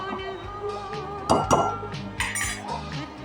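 A spoon scrapes and clinks against a metal pot of dal in a few sharp knocks over a steady background hum, with no one talking.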